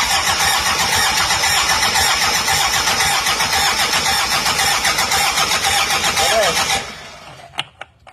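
A Daihatsu Taft GT engine with a seized piston and scored liner is cranked on the starter: a loud, rapid, rhythmic churning continues close up for about seven seconds, then cuts off, followed by a few faint knocks and clicks.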